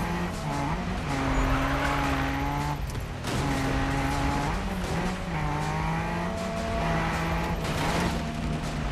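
A car drifts in Need for Speed (2015) with long, wavering tire squeal over a loud, steady engine roar, the squeal rising and breaking in repeated stretches.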